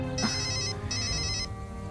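A telephone carrying an incoming call from Chennai sounds its electronic ringtone in two short bursts, loud and near, layered over a low background tone.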